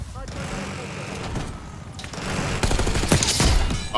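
Gunfire in the video game Black Ops 6 builds into rapid, rattling bursts of shots toward the end, layered over game noise and a voice talking.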